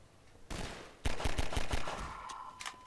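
Gunshots in Half-Life 2 Episode 2: one sharp report, then a rapid run of about six loud shots in quick succession with a ringing tail, followed by a couple of fainter hits.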